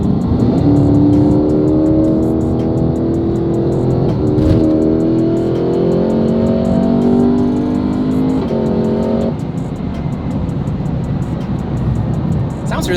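A supercharged Cadillac CT5-V Blackwing sports sedan accelerates hard up an on-ramp in its loud V exhaust mode, the raspy engine note rising steadily through long pulls with shifts between them, loud and continuous from inside the car.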